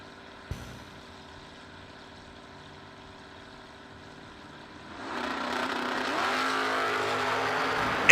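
Drag race cars at the SFG/FTI Spring Nationals: a quiet start with a sharp bang, then engines surge into a loud, sustained roaring acceleration from about the midpoint onward.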